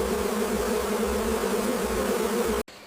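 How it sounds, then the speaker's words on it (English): Stingless bees fly through a deep forest, their buzzing forming a steady, close, continuous drone that cuts off abruptly near the end. "Every bee, no matter how tiny, carries an important task and never ceases its efforts, tirelessly flying through the deep forest"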